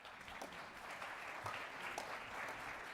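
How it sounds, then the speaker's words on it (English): Faint, distant applause from a conference audience welcoming a panel on the future of work, a soft continuous patter of many hands without speech. "So please join me in giving a big round of applause to our panelists."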